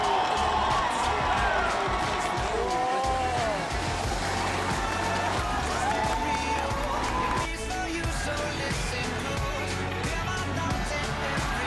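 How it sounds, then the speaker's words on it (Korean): Crowd cheering and roaring at a high school football rivalry match in Gangneung after a goal, a loud continuous wash of shouts and whoops with some nearby voices rising above it. "이곳은 K리그를 넘어 마치 월드컵 우승을 한 듯한 함성이 쏟아집니다"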